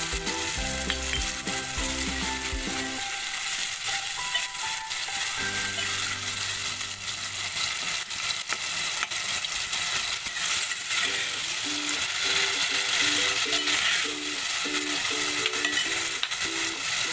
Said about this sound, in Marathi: टोमॅटो मऊ होण्यासाठी आपण टाकून घेऊ, चवीपुरता मीठ टाकू।